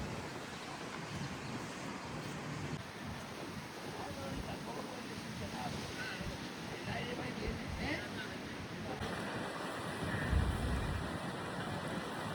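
Steady roaring wind on a stormy January day buffets the microphone by the sea in Alicante, Spain, with surf washing beneath it and a gust swelling near the end.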